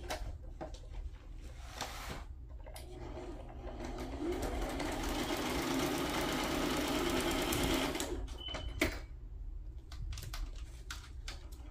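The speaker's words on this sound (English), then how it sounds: "I'm gonna sew right there, that together. I'm just gonna do a simple zigzag." A sewing machine runs a simple zigzag stitch through paper pages decorated with side strips, a steady close mechanical whir that swells into one continuous run in the middle and is broken by short stop-start bursts before and after.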